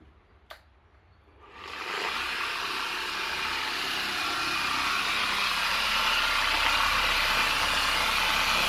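A Mercedes W212 fitted with custom exhaust tips starts and settles into a steady idle, a brief click followed by the engine catching and a constant low, even rumble from close by.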